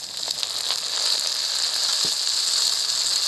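Green-and-ripe garden tomatoes added to a hot pan with ginger paste give a steady close sizzle and hiss, with faint crackles and pops running through the whole stretch.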